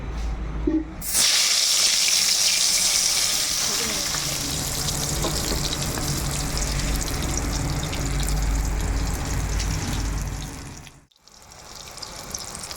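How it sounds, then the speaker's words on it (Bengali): Eggplant slices frying in hot oil in a wok: a loud, continuous crackling sizzle that bursts in after a brief clatter and holds steady, then dips sharply for a moment near the end before resuming. "এখন আমি বেগুনগুলো ভালো করে ভেজে নেব"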